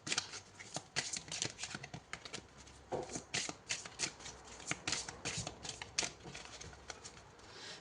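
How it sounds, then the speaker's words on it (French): Oracle cards being shuffled and handled at close range, with a quick series of soft riffling snaps and papery flicks, quiet and continuous without talk. "Là, je prends une troisième carte avec ce joli oracle."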